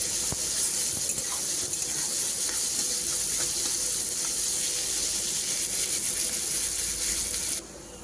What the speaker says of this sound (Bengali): পেঁয়াজগুলো লালচে কালার করে ভেজে নেব